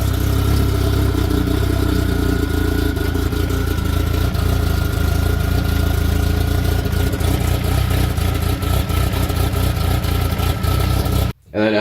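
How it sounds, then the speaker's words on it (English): A car engine runs in gear with one wheel off, spinning a hub and brake rotor that wobbles badly. It makes a loud, steady mechanical drone with rhythmic rumbling that holds for the whole stretch, then cuts out abruptly near the end. "started the car up while it was in gear so the wheels could spin"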